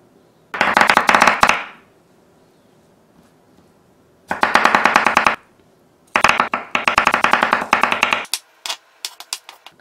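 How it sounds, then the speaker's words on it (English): A knife chopping an onion on a board in rapid bursts of sharp, even taps, several separate runs with short pauses between them, close and loud with no voices. "let's finally chop the onion"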